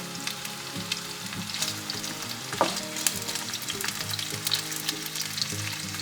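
Diced onion, bell pepper and celery sizzle steadily in a hot pan over medium heat, a continuous crackling fry with occasional stirring scrapes and clinks, close and alone without talk.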